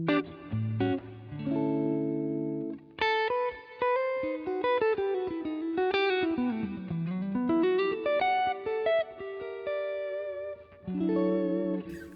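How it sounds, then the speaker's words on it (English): A clean electric guitar through a Line 6 Helix multi-effects unit on a dual jazz tone preset plays a flowing melodic line with chords in a warm, mellow jazz tone, steady and close, no voices. "Dual jazz tone is my kind of go-to."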